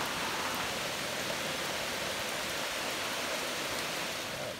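Steady rain hiss, a soft, even wash of noise with no pauses, heard alone without voices.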